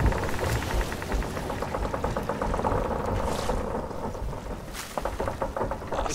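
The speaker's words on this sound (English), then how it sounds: "Why do you keep driving into the storm?" Stormy weather in the pirate game Sea of Thieves: steady rain and wind roar under rumbling thunder, with rapid rhythmic rattling and a couple of sharp hissing gusts.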